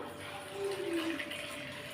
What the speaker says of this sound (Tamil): இதில் ஒரு கப் அளவு தண்ணி சேர்த்து நல்லா கொதிக்க வச்சுக்கலாம்